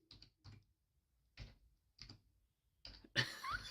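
Short bursts of computer keyboard typing come in several separate clusters with pauses between them, close and fairly quiet, followed by a louder burst of mixed noise near the end.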